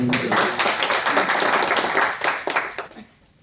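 A church congregation at a Telugu Sunday worship service in Dubai bursts into loud, sustained clapping for about three seconds before it fades, with a few voices mixed in.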